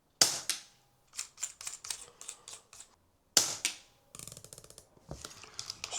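An air rifle being zeroed: two sharp pellet shots followed by mechanical clicks and ratcheting of the cocking action, crisp and close in a quiet setting, with no speech.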